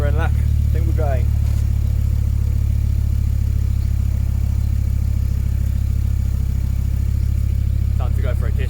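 A Ford XR5X4 Turbo engine runs steadily after a slow start, with a loud, constant low rumble throughout and someone speaking briefly over it.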